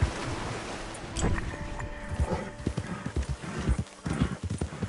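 Horse hooves clip-clop in a quick galloping rhythm with a whinny, ridden through Saint Denis in Red Dead Redemption 2, loud and close over rustling ambience.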